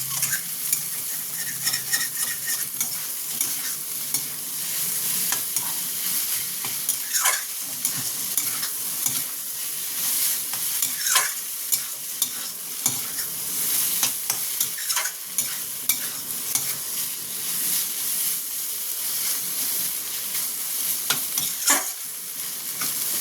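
Vegetable filling for a bread chop fries in a pan with a steady, bright sizzle, and frequent clinks and scrapes of stirring over it, no voices.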